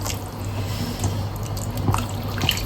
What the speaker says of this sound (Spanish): Le vamos a agregar un poquito de agua, miren, así, con el hervidor mismo, está tibia